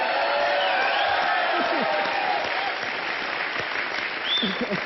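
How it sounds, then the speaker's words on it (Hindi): Studio audience applause on a comedy talk show, loud and continuous from start to finish, thick clapping with a few scattered cheers and whoops and some voices underneath. "प्रियंका के लिए जोरदार तालियां पहले दो।"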